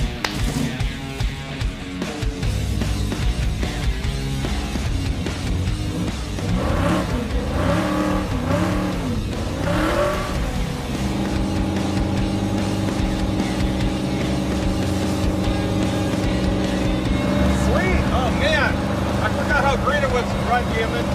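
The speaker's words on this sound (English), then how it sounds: "And I think we're ready to go do burnouts." Muscle truck engine revving hard for burnouts, a loud sustained roar with rising and falling revs, while people talk over it.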